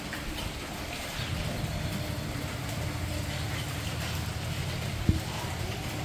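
Steady broadband rain noise runs throughout with a low rumbling undertone, and a single sharp knock stands out near the end.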